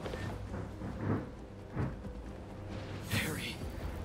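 Thunder rumbles through a rainstorm in the Spider-Man video game, with several low rolls over steady rain while someone talks over it.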